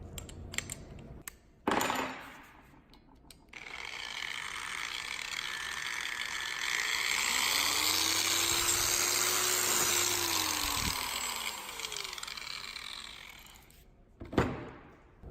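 Keyang DG 850 V variable-speed grinder fitted with a brush and run at its lowest power setting: a few clicks, then a steady whirring motor hum that rises slightly and fades out, with a click at the end.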